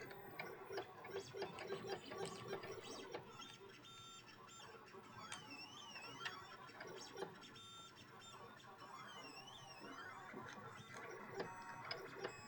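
A Lulzbot Mini 3D printer prints a benchy, its stepper motors whirring and chirping in shifting pitched tones with steady mechanical ticking, continuous and moderately close, no voices.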